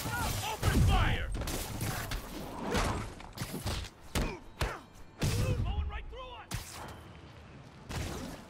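Gunfire bursts in a Spider-Man video game brawl at a park, with sharp repeated shots and heavy thumps scattered across a busy mix of game voices and impacts.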